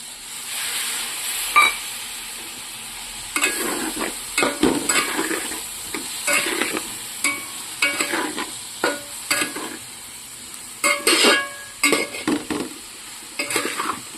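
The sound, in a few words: stirring and frying spices in a pan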